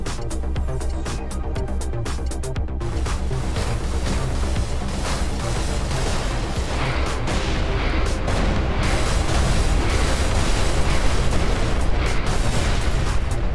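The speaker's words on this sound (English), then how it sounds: "So let's actually use the missiles this time." Missiles launching and detonating in the space combat game Everspace 2: a dense, continuous barrage of booms and crackling blasts, loud and sustained throughout with no pauses.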